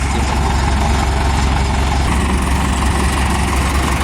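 Deutz F4L912 air-cooled four-cylinder diesel in a 6207 tractor idling steadily, a loud, continuous low rumble with even firing pulses throughout and no talk.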